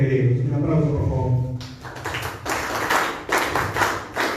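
An audience at a Spanish-language panel event on micro and small businesses breaks into scattered clapping that starts abruptly after a voice, continuing as a moderate, uneven patter of hands.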